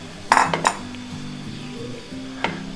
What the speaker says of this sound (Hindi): दरमियानी आंच पे अब हमने इसको भूनना है।